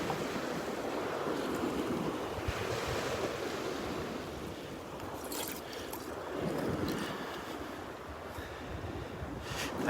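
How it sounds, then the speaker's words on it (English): Surf washes continuously onto the beach at Delnor-Wiggins, a broad steady roar of breaking waves swelling and receding, mixed with gusty wind buffeting the microphone, with no one speaking. "The waves are being a big help right now."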